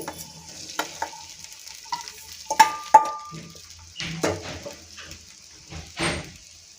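A spoon stirring poha with salt in a hot pan, with soft scraping strokes and light sizzling close by, a few sharper knocks against the pan, and no talk.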